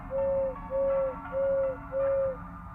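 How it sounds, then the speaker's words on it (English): A creature in a video game hoots four times in an even rhythm, each call a steady, sustained tone of about half a second with short gaps between, clear over a soft game background. "Seems like he hoots 5 times then stops."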